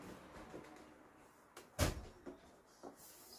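A bathroom door being shut after chisel work, a single sharp knock of wood closing near the middle, with softer bumps and handling noises around it in a quiet room.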